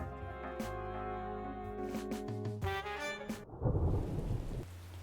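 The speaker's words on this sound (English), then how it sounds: "It was a dark and stormy Tuesday." Animated thunderstorm with rain at a middle school, a low rumbling thunder roll and steady rain hiss rising under sustained tonal music, loud and close, with no voices.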